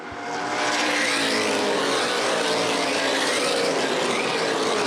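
Late model sportsman race cars roaring around Winchester Speedway in a three-car battle at the front of the pack, a loud continuous engine drone that swells as the cars pass close by.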